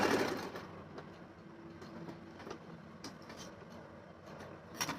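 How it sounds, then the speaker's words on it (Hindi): A home sewing machine runs a straight stitch joining a fall to a saree, a quiet, steady whirring hum with faint rhythmic ticking, heard close and alone. "और आपको फॉल और साड़ी को जोड़ के सीधी सिलाई लगानी है सिंपल वाली, तो आप इस तरह से लगा सकते हो।"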